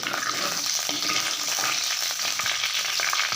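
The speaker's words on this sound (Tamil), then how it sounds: "வடகம் நல்லா பொரியுது" Karuvadagam, sun-dried spiced vadagam balls, fries in hot sesame oil for a kara kuzhambu, giving a loud, continuous close-up sizzle and crackle with occasional stirring scrapes and no talking.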